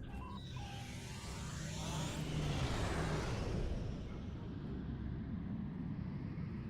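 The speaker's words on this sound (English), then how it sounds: "Alright, time for some slipstream." A slipstream warp drive engages in Star Trek Online, a low, rushing engine roar that swells over a few seconds and then settles into a steady hum, with no voices over it.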